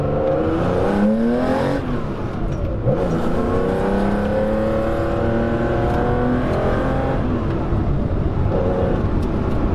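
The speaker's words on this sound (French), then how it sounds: "Je vais vous refaire une accélération" A Porsche 911 backdated to ST look with a 2.3-litre engine revs hard and accelerates continuously on the road, rising through the gears with a loud, close, sustained roar and brief dips at each shift.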